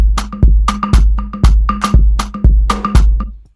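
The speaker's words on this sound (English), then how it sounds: "I play the same thing with the conga" Conga drums play a loud, close groove for an Afrobeat-style instrumental, with deep toned hits and lighter slaps in a quick repeating pattern carrying a slight delayed echo.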